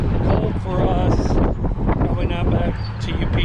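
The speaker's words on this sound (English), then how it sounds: "Pretty cold here. It's like 45 degrees. Really windy." Strong cold wind outdoors at an RV stop buffets the microphone in heavy, gusting rumbles while a person talks throughout.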